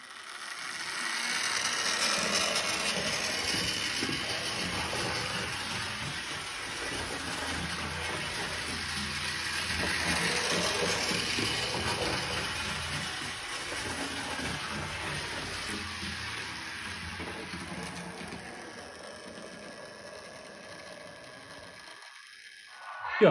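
A Märklin Schienenzeppelin model rail car runs its motor with the propeller spinning, giving a continuous, fairly quiet mechanical whir with a faint airy rush that stays steady throughout.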